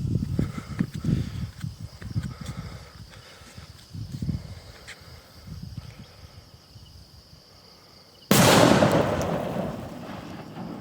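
A Great Pyro King Kong firecracker goes off with a single sharp, loud blast that rings out and decays over a few seconds, after a stretch of quieter background noise and faint murmuring.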